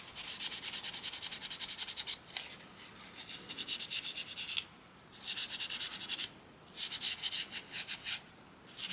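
Repeated rubbing or sanding strokes on the seat of a Tamiya 1/16 scale Kubelwagen model kit, a dry rhythmic scratching in four bursts with short pauses, close and alone.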